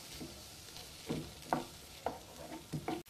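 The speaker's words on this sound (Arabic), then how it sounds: "درت هنا جوج بصيلات، قرطتهم بحال هكا، شوية ديال زيت الزيتون، واحد ثلاثة ديال الضريسات ديال الثومة، وغادي نخليهم يتشحروا مزيان" Chopped onions and a few garlic cloves cook in olive oil in a pan, a quiet steady sizzle broken by several soft stirring scrapes spaced about half a second apart, close and fairly faint with no voices.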